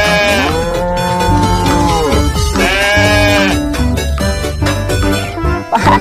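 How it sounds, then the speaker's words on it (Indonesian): Toy sheep and goat figures bleat loudly in a long wavering sequence, the calls overlapping and repeating with sustained pitched cries over six seconds. "Di sini ada 2 ekor domba dan kambing, teman."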